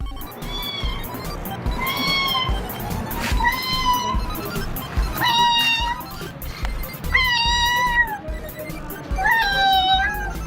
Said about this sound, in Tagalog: Tunog pusa nga.